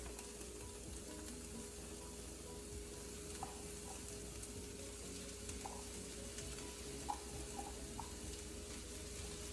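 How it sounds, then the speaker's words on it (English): Shredded cheese sits in a pan on a stove turned to its lowest heat and gives a soft, steady sizzle and crackle throughout. A few faint stirring taps break the sizzle. "we're just gonna add our cheese in there"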